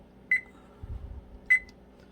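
Two short, high electronic beeps about a second apart as a kitchen timer is set, with a faint low thud between them in a quiet room.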